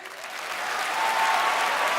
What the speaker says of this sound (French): Applaudissez tous en même temps pour voir mon trophée, ce que ça peut donner.